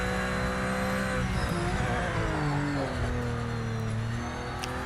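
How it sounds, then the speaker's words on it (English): A race car engine in Project Motor Racing on Xbox Series X roars loud and close, rising and falling in pitch through gear changes and corners, with faint tyre squeal and no talking. "Sounds lovely, the car sounds lovely."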